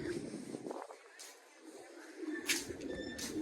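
Pigeons coo softly at close range while pecking at grain in a village coop, a low murmuring call that comes in uneven bursts over light background rustle.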